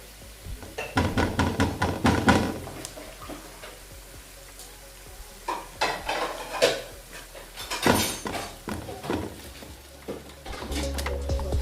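Onions frying in oil in a pot on a gas stove for pepper chicken, stirred with a utensil that clatters and scrapes against the pot in irregular bursts over a soft sizzle, close by, with no talking.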